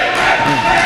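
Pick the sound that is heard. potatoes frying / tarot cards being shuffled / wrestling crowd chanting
wrestling crowd chanting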